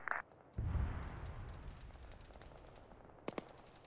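Military gunfire in the Arma 3 combat game: a sharp crack, then a rolling, echoing burst that fades, followed by two more distant shots, all heard with no one talking.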